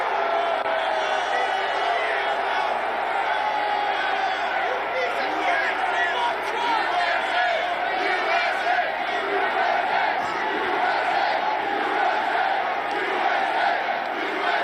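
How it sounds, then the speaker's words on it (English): A dense crowd at a political event shouting and jostling, a continuous roar of many overlapping voices and yells sustained at steady loudness. "What a crowd of people."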